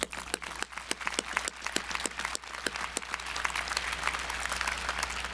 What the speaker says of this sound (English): let's give Sarah and Chris a round of applause